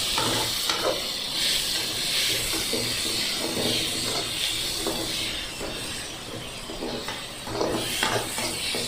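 Chopped tomatoes hit a hot pan of browned chicken curry base and sizzle. The hiss is loud and continuous, with brief stirring scrapes and bursts of spattering along the way.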